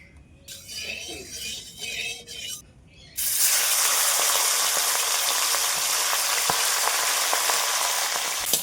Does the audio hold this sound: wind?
no